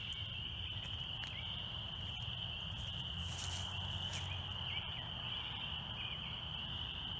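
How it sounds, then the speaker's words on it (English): Spring peepers calling in Southwest Michigan, a steady high-pitched chorus of peeping frogs that runs continuously outdoors, moderately close, with no talking. "Can you hear the peepers?"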